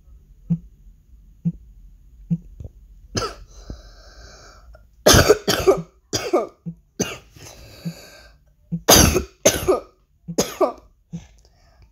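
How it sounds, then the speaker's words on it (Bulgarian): A series of harsh, close coughs and throat clearing, spaced out at first and then coming in quicker clusters. "болен съм между другото и кашлям"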